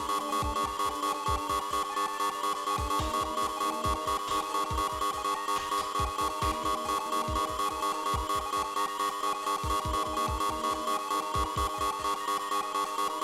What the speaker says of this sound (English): I'm gonna leave this on the buzzer sound